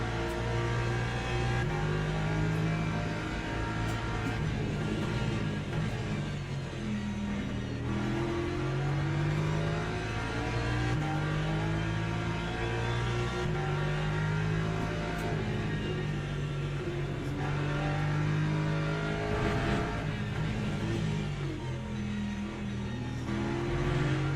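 Hypercar race car engines in the Le Mans Ultimate racing game at Bahrain, a constant loud engine drone with rising and falling revs as gears shift, several cars audible in a multiclass field, no talking.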